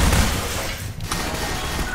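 Half-Life 2 gunfire rattles on in a steady, moderately loud stream of overlapping shots and impacts, briefly thinning in the middle before picking up again, with no voices.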